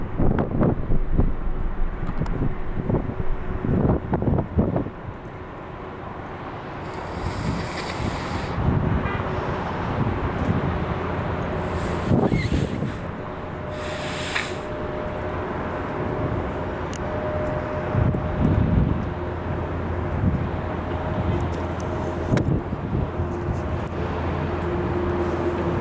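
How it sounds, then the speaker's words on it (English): Cathay airliner inbound from Hong Kong on final approach at LAX, a low distant jet roar with wind buffeting the microphone and faint road traffic beneath, no talk. "On final approach, we have Cathay flying in from Hong Kong."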